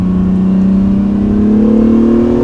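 An Acura NSX accelerating hard, its engine a loud, smooth drone rising steadily in pitch, with a faint turbo whir running beneath, no voices.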